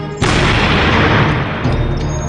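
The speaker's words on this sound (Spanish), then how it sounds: "Ha sido una explosión enorme." A small bamboo grenade packed with gunpowder detonates beside a test dummy, giving one sudden, very loud, close blast that rolls into a long, heavy roar of debris and echo.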